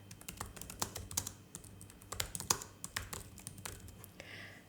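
Fast, uneven keystrokes clatter on a computer keyboard, close and fairly loud, in bursts of taps with short pauses and no voices.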